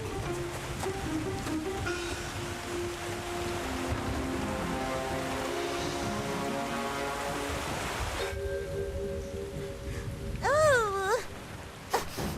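Cartoon rain falling in a Viking children's animation, a steady hiss of heavy rainfall with music underneath, then a shift to quieter rain with swooping tones near the end.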